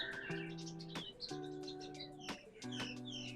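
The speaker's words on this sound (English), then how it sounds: "birds are fighting" Several small birds fighting over a backyard birdhouse, giving repeated sharp chirps and tweets in quick bursts, close and moderately loud, over a steady low hum.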